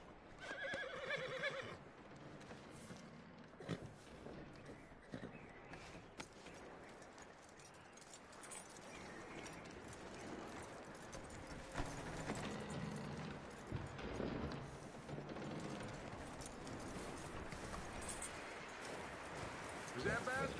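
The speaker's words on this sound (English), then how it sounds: "That looks like a decent horse" A horse in the Red Dead Redemption 2 video game whinnies and clip-clops over a dense, steady game soundscape, with voices speaking throughout.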